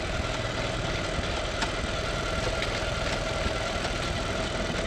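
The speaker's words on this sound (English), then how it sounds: "Good thing is that the engine runs." A motorcycle engine idles steadily throughout, a dense continuous mechanical rumble with slight knocking texture, close and unbroken, with no talk; the bike has a transmission that will not shift.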